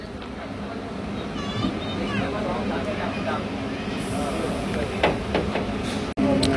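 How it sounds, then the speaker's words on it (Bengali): A local train pulls out of Ramnagar Bengal station on the Digha to Howrah line with a low, steady rumble of carriages and a few squeaks and clanks. People talk nearby over it, and the sound cuts out abruptly near the end. "ট্রেন ছেড়ে দিল রামনগর বেঙ্গল স্টেশন"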